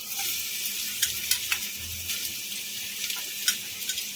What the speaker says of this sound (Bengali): এখন এর মধ্যে দিয়ে দেবো কুচিয়ে রাখা এই যে গাজর ক্যাপসিকাম আর পেঁয়াজ